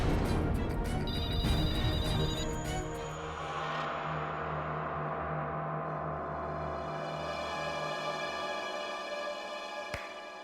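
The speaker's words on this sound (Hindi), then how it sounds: "ये तो उस आत्मा का ही फोन लगता है।" A telephone rings in a dim, eerie scene, the electronic trill sounding in repeated bursts early on, then fading into a low sustained drone with a sharp click near the end; no one talks.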